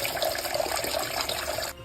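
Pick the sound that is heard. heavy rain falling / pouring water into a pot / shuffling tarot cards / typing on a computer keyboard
pouring water into a pot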